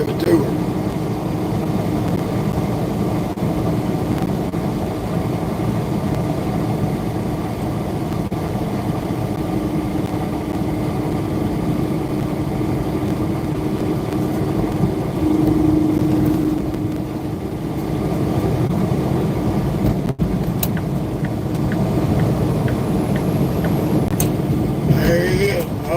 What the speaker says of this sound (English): you can hear that engine whistle.